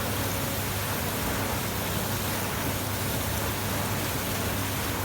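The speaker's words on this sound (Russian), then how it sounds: "Если закрыть второй раз, она запускается повторно уже на второй цикл." Fagor FI 120 dishwasher running its second wash cycle, a steady rushing spray of water like rain, constant and even throughout with no voices.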